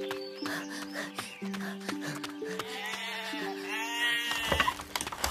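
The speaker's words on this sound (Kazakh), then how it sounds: "қорадағы қойларды өріске айдаңдар." Cartoon sheep bleat in a farmyard pen, several wavering cries overlapping above a bouncy melodic music track.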